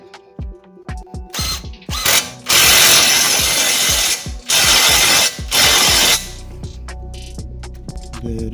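A ratchet tightens a lower control arm bolt on a Ford Fiesta: quick clicking ratchet strokes, then long loud whirring bursts of a power tool with short pauses, ending in softer clicks.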